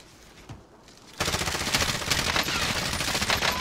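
Sustained automatic gunfire in the Call of Duty Warzone video game, quiet at first then erupting into a loud, continuous rattling burst that runs to the end without talk.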